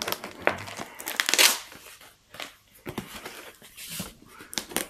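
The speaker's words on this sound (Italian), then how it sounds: "E apriamo il pacco." A cardboard package holding a Pulsar Talion XQ35 Pro thermal scope is torn open, with close bursts of crinkling and ripping packaging followed by scattered handling rustles and pauses.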